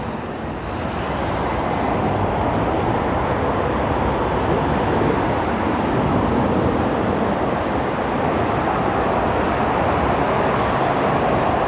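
Steady, dense roar of motorway traffic on the M62 overhead, heard from beneath in a long pedestrian subway in Liverpool; a continuous broadband rumble with no breaks, fairly loud and unbroken throughout.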